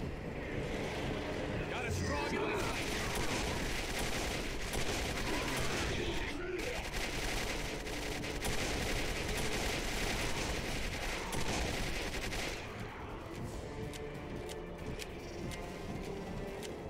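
Shotgun blasts and other gunfire in the PC first-person shooter Quake 4 boom steadily amid dense, continuous game noise and music.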